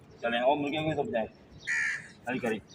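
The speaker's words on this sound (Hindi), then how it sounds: "और कौवा देखे कैसे बोल रहे हैं।" Crows caw in loud, repeated bursts outside a home garden with flowers and chickens, mixed in with someone talking nearby.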